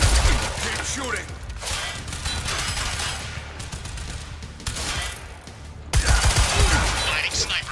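Sustained gunfire in the action game Quantum Break, a dense fusillade of shots with mechanical clatter that swells louder near the end, with voices mixed into the battle din.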